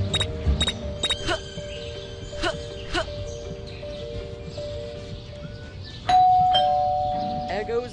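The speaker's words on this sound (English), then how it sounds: "There goes that stupid bell again." Repeated short electronic bell chimes in the Scary Teacher 3D game, several sharp rings spaced across the stretch with a louder sustained tone near the end, over quiet background sound.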